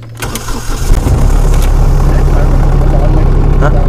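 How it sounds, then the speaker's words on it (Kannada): A Tata Hitachi excavator's diesel engine cranks and catches after a brief start, then settles into a loud, steady low rumble close by, with a few clicks and clunks from the cab early on. "ಓಕೆನಾ, ಬನ್ನಿ ಗಾಡಿನ ಆನ್ ಮಾಡೋಣ."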